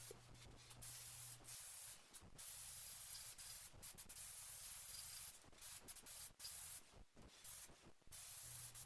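Spray can of high-gloss lacquer hissing in repeated bursts over parts of a 700 kg emergency jack from a BMW E30, steady broadband spray with short gaps between passes, close and fairly quiet.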